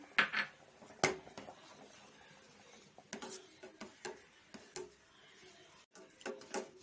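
Spoon scraping and clinking against a pan while a sweet milky mixture is stirred as it thickens, giving irregular close knocks and scrapes over a quiet background, with no talking.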